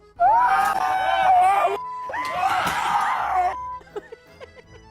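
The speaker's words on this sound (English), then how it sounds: "Why are we all screaming?" Several people screaming and wailing together indoors in a house, two long loud bursts of overlapping voices, followed by a few fainter scattered cries.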